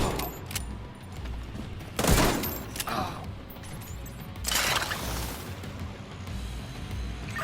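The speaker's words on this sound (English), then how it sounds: "Firing at them!" Gunfire in the video game The Division 2, a couple of loud rifle bursts and shots standing out over a continuous background of game noise, with weapon mechanism clicks between.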